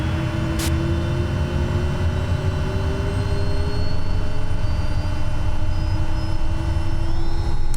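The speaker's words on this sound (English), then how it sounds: "Let the engine come up until it's stable." SWS Kodiak aircraft engine starting and spooling up in Microsoft Flight Simulator 2024: a loud, steady, close engine drone with whining tones that shift and rise toward the end, with no talking.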